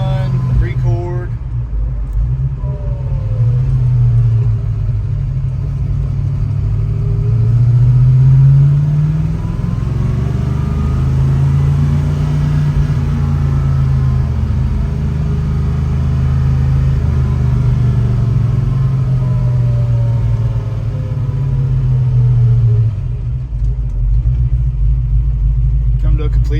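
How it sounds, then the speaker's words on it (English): A 1966 Shelby GT350's engine idles with a low, steady rumble, the pitch drifting slightly as it runs, close and loud throughout. "The car doesn't want to die. It idles nice."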